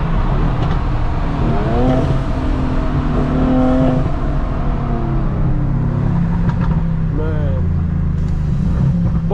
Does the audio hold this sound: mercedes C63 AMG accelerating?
yes